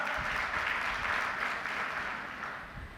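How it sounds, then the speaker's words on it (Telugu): A church congregation clapping during a Sunday worship service, a dense, continuous burst of applause that fades slightly toward the end. "చప్పట్లు కొడదాం, ఇంకోసారి చప్పట్లు కొడదాం"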